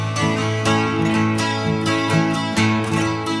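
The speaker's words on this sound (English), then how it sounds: "This is the sound of a Smith guitar." Smith 18-string acoustic guitar strummed in a steady rhythm, chords ringing out clearly and close, with no voices.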